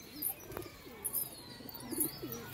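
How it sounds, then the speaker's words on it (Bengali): Nichebaji pigeons in a loft give soft, low coos and scattered chirps, with brief bird calls rising now and then over a quiet room, no voices. "তো এটা সব নিচেবাজি পায়রা"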